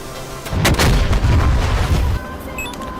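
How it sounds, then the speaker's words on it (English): Large bombs detonate in a war game on a dynamic war server, a heavy cluster of booming blasts that rumble and roll together for under two seconds before cutting off into a quiet tail. "Right down the middle of the pipe. Big bombs."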